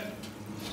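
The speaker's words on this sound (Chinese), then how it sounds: "锅中加水" Tap water pours steadily into a cooking pot, a brief, soft, continuous rushing with no speech over it.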